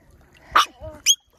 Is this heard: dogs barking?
yes